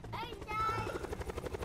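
Helicopter in the Black Ops 4 Blackout battle royale game, a steady rotor whir with a pulsing beat, heard close under a voice that speaks briefly over it.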